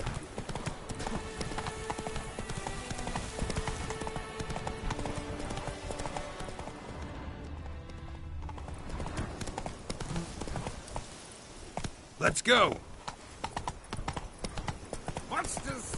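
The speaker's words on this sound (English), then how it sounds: "Even a horse drops if you ride it at a constant gallop." Roach the horse gallops in The Witcher 3, with rhythmic clip-clop hoofbeats running steadily under a man's speech; the hooves drop out briefly midway, then resume after a short loud burst.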